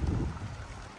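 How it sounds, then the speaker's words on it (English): Wind gusting on a rainy bluff's edge, a low rushing roar buffeting the microphone, strongest at first and easing slightly over a brief moment, with no voices. "It's actually pretty good wind, actually,"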